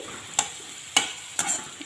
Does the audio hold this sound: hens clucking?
no